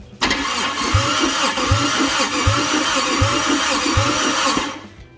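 A damaged, low-compression engine cranks over on the starter during a compression test at a wreckers yard: a loud, close, rhythmic chugging with about seven even beats over five seconds, then it stops.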